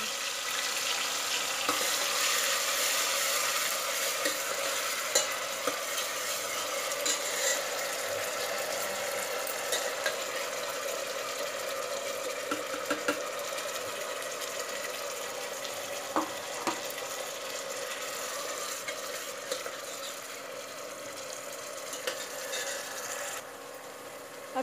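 Curry paste of ground ginger, garlic, onion, tomato and green chilli hits hot oil with whole spices for an egg and potato curry, frying with a steady loud sizzle and occasional scraping stirs throughout, no talk.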